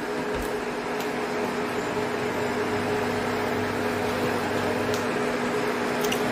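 An induction cooktop's cooling fan gives off a steady, even electrical hum with a faint tonal whine, unchanging throughout, while occasional small clicks from a kitchen where khichuri is being cooked sit on top.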